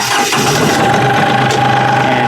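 A tractor engine with a hydrostatic transmission runs close by in neutral, a continuous heavy rumble with a steady mechanical hum and no pauses, as if just started and idling.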